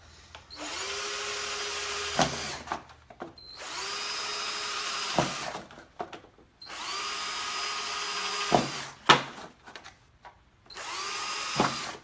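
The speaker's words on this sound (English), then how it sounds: "I don't know what size drill bit that is." An electric drill whirs loudly in four sustained bursts, each winding down with a short pause between, plus a few clunks in the gaps.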